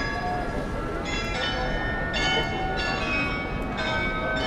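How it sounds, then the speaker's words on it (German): Bells of the Munich town hall Glockenspiel ring out in a steady series of resonant, overlapping strikes, with a faint outdoor murmur underneath. "Münchner Glockenspiel am Rathaus."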